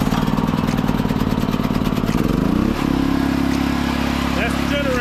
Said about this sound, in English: First, the Generac GP8000E. Gonna choke it.